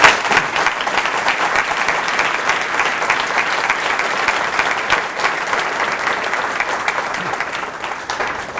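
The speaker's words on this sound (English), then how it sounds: "I'm going to ask you to give them another big round of applause" Dense, sustained applause from a large audience at a Year Up ceremony, loud and continuous from start to finish with no pauses.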